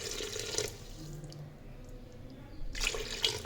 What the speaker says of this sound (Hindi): अब इसमें जाएगा पानी, हस्बी ज़रूरत इतना डालेंगे कि गोश्त इसमें जल जाए।